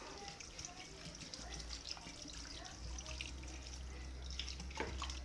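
Water poured into a pot of freshwater machoiron fish broth, a faint trickling and splashing stream with low rumbling underneath, heard quietly from nearby.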